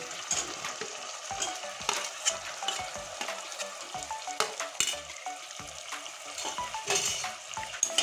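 Chopped tomato and spices sautéed in a pan for a soybean and potato curry, giving a steady close sizzle broken by frequent scraping and stirring clicks of a spatula throughout.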